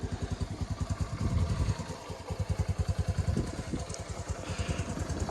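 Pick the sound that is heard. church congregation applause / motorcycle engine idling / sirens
motorcycle engine idling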